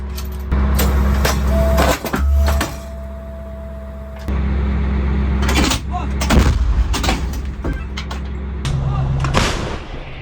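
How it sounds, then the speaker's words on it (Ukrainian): Several heavy, booming blasts from a KRAB self-propelled howitzer ring out over a steady low mechanical rumble, with sharp broadband bursts spaced a few seconds apart. "Приготуватись до пострілу справа декількох секунд"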